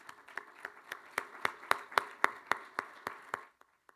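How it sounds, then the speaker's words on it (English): Applause for a search committee at a university athletics press conference, a small group clapping in slow, evenly spaced unison beats that build in loudness, then break off into a couple of last scattered claps. "Give them a round of applause."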